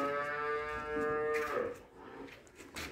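A Russian Simmental cow or calf lets out a long, low moo that rises and then fades, with quiet farmyard noise around it.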